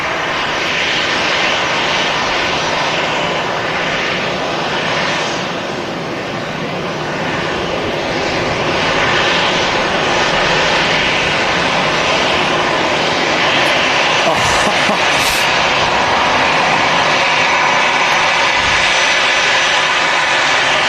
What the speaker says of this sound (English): Look at the engines on the EasyJet, guys.